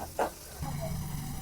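Chopped onion sizzling in a pan for a chutney to serve with roti and chapati; a steady frying hiss starts after a brief knock and carries on evenly to the end, with someone speaking faintly over it.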